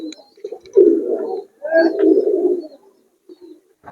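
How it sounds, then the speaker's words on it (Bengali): High-flyer Giribaz and Pakistani pigeons coo in low, rolling bursts near and clear, two longer phrases with short soft coos between, in a loft holding about two hundred birds. "কবুতর গুলোকে সবে মাত্র ছাড়লো"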